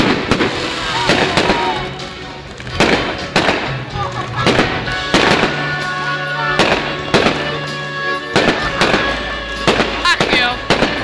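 Fireworks exploding on New Year's, a rapid series of loud nearby bangs and crackles with echoing booms, while people talk underneath.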